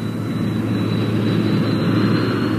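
Jet fighter landing on a runway, a steady loud engine roar with a thin high whine running through it, continuous and close, with no voices.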